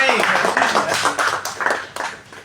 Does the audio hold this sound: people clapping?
yes